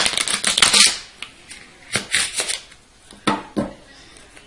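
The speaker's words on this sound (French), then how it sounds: "mon mélange américain" A deck of playing cards riffle shuffled close up during a card trick, a dense crisp burst of flutter at the start followed by several sharper bridging and squaring snaps spaced out across the rest.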